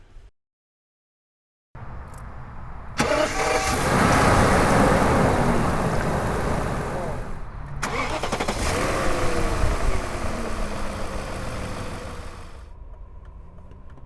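A BMW E38 750 V12 runs smoothly and quietly inside the cabin, a low steady hum with road and wind noise building as the car moves off, continuous for most of the stretch.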